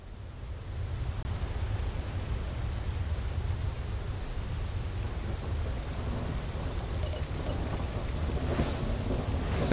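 Video game storm: steady rain pours down at sea with a low rumble of thunder rolling underneath, a constant dense wash of storm noise with no voices.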